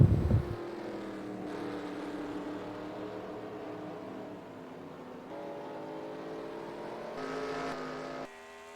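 Race cars roar steadily through a sim-racing league round at Talladega, a continuous engine drone heading into the final oval section, with a slight swell near the end and no talk.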